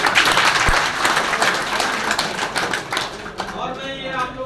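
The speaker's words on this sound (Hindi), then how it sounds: "एक बार सर के लिए एक बार जोरदार ताली" A roomful of people at a seminar gathering clapping loudly and steadily, a dense burst of applause that carries on with a voice speaking over it toward the end.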